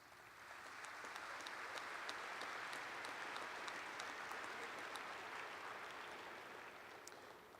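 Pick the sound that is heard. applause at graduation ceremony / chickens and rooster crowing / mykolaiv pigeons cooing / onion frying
applause at graduation ceremony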